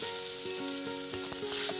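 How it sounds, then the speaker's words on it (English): Goat meat browning in olive oil over high heat, a steady close sizzle with a few sharper crackles and pops running throughout, no voices. "so we're going to brown these up. So I'll go on a high heat, a little bit of olive oil."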